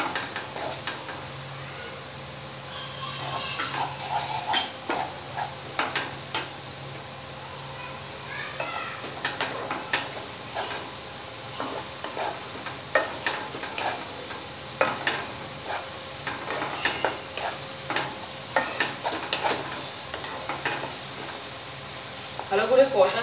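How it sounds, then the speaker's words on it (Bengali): Spice paste with ground onion and turmeric being stir-fried for a Bengali bhetki fish curry, with soft sizzling and repeated scraping stirs in a pan, and a voice talking at times. "ভালো করে কষাতে হবে মশলাটাকে"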